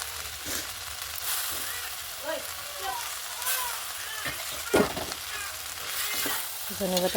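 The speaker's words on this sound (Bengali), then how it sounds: "এখন নাড়াচাড়া করে নামিয়ে নেব।" Vegetable curry with lentil nuggets (bori) and coriander leaves being stirred in a pan, a continuous sizzle broken by scraping strokes and a few clinks, with faint voices in the background.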